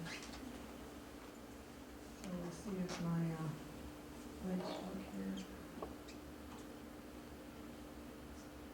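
Killdeer give a few short, chirpy, repeated calls in two brief bursts at moderate distance, heard between and under a person talking outdoors.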